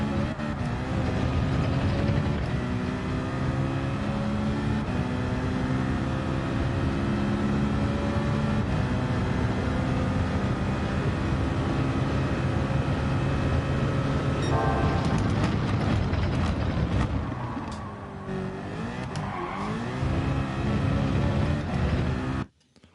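A Porsche in a racing game holds a loud, sustained engine drone with layered harmonic whine that stays high and steady. It wavers and dips near the end, then cuts off abruptly.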